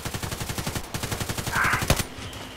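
Rapid automatic gunfire rattles in an even, steady rhythm during a Contract Wars online shooter match, fairly close and moderately loud, then a sharper single crack near the end before it trails off.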